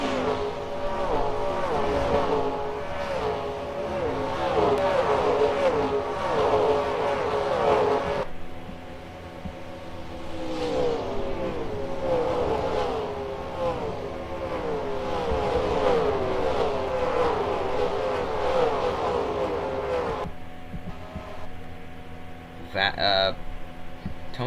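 Stock cars racing down the front stretch at Rockingham, a steady roar of several engines passing continuously with rising and falling pitch, a commentator talking over it.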